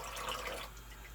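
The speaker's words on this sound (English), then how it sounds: "I'm going to turn on the water." Water runs from a tap as a brief, soft, steady rushing hiss, with no talking.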